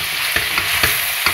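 Pork goulash frying in a pot while being stirred, a steady broad sizzle with a few soft scraping strokes of the spoon against the bottom, close and continuous with no talking.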